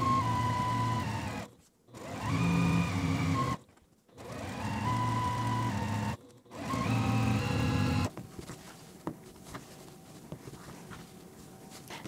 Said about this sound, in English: we're gonna sew just right on this line.